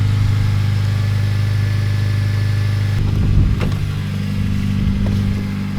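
A warmed-up Honda Civic Si engine idles steadily and loudly up close, a low even drone that roughens briefly partway through without any voices.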